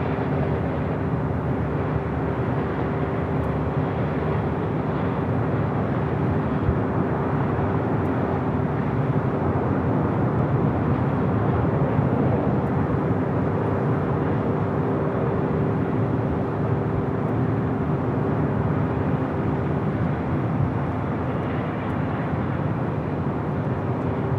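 A Japan Airlines Boeing 787-9 Dreamliner takes off at Los Angeles International Airport, its jet engines giving a steady, broad, distant roar that holds for the whole stretch.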